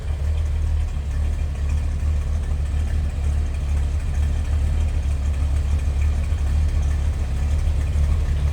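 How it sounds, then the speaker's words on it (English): A deep, steady 440 V8 engine rumble from a 1968 Dodge Polara 500 idles continuously through its exhaust with a low throb and no revving, close by and fairly loud throughout. "That exhaust doesn't sound too bad."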